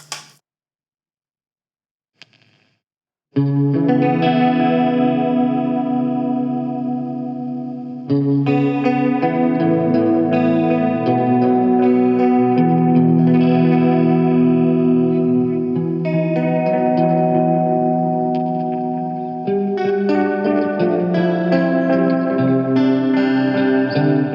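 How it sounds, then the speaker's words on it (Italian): A Gokko MX300 analog pedalboard with chorus stacked on reverb and delay, shimmering, swirling guitar chords ringing out alone for about twenty seconds after a brief quiet start, loud and sustained with echoing tails. "Andiamo ad aggiungere il chorus."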